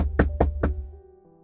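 Three firm, evenly spaced knocks on an office door sound close and clear. A short resonant ring fades after the last one.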